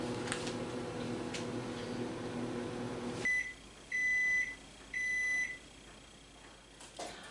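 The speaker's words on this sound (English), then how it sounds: "my microwave is now done after 1 minute" A microwave hums, then falls quiet before three loud electronic beeps sound in an evenly spaced series, close by.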